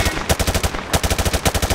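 Rapid automatic gunfire from Call of Duty MW2 punches through light cover, a loud, close burst of evenly spaced shots in two strings with a brief pause between, no voices over it.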